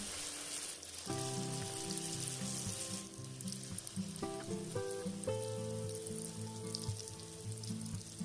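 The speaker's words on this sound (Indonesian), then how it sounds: "setelah panas langsung saja goreng adonan kentang" Potato batter deep-fries in hot oil with a steady, bright sizzling hiss throughout, while a melodic music track plays underneath.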